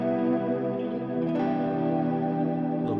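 Guitar run through an Axe-Fx III Plex Delay with the diffusion raised, giving a smeared, richer and smoother swirl of sustained notes and blurred repeats, moderately quiet and continuous with nobody talking.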